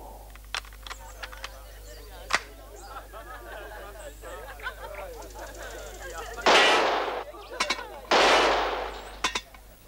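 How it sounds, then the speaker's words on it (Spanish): Two loud gunshots crack about a second and a half apart at a shooting contest in an animated cartoon, over a background of crowd chatter and soft ambient sound. "Los dos tiros han dado en el blanco."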